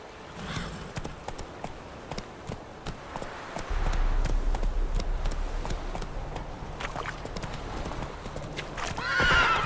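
Roach the horse galloping in The Witcher 3: rhythmic clip-clop of hooves, first lighter and then heavier and faster, ending in a loud close whinny.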